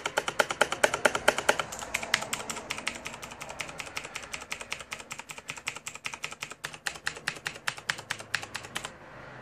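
Rapid, crisp clicking of a Razer BlackWidow Ultimate Chroma mechanical keyboard being typed on, steady and close, with a few heavier thocks and no talking.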